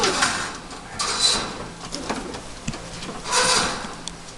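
Air-tested stock pigeons coo softly in a loft, the low calls repeating under scattered brighter rustles and clatters, with no voices.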